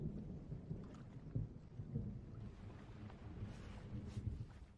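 A thunderstorm rages at sea around a small rubber boat: low rumbling thunder and gusting wind roll continuously, with water churning beneath, fairly faint overall and with no voices.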